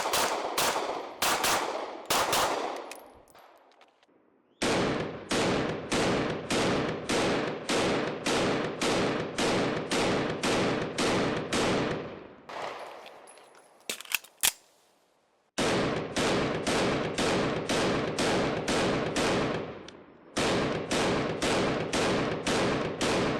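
A CZ P-01 pistol fires shot after shot in fast, evenly spaced strings, each report sharp and loud, with brief pauses between strings and a few scattered shots.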